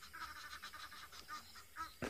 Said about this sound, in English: now the geese are no longer silent.